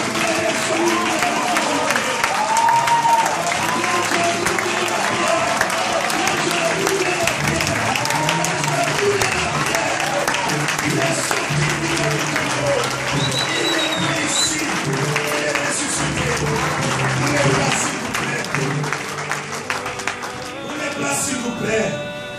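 A church congregation at an Easter service claps and cheers in sustained applause, loud and continuous, with a voice calling out and crowd noise throughout.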